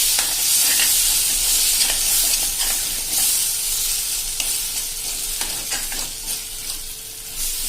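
Crushed medium tomatoes tipped into a hot pan for a dhaba-style sev tomato curry, loud continuous sizzling with repeated stirring scrapes up close and no voices.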